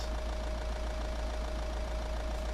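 A Volkswagen Crafter van engine idles steadily in Euro Truck Simulator 2, with a low, even knocking hum and a thin constant whine above it, continuous and unchanging, no talking.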